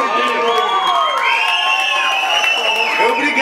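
A concert audience at a show cheers and whoops loudly, with continuous crowd noise, shouting voices and some scattered clapping sustained throughout.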